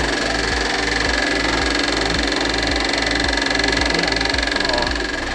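A traditional slondok cracker cutting machine with wooden parts, driven by an electric motor in Grabag, Magelang, runs with a loud, steady mechanical hum and rapid rhythmic clattering pulses throughout.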